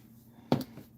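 A short mobile phone alert chimes once, a bright tone rising above a quiet room hum, with a fainter second note just after.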